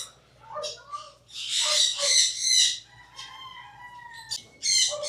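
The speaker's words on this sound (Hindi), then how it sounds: "Philippine cocoa Dove." A Philippine coco dove at a zoo in La Castellana, Philippines, gives several short calls in bursts over steady background noise, with other bird sounds and brief voices mixed in nearby.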